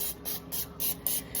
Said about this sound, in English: Now we're gonna go in with a little bit of original spray, just to spray it.